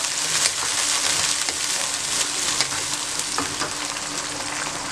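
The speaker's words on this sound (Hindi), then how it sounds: "ये प्याज को आपने बिल्कुल लाइट कलर में फ्राई करना है" Onions for chana pulao fry in hot oil with a loud, dense, continuous sizzle, overlaid with occasional scraping stirs, close up and with no voices.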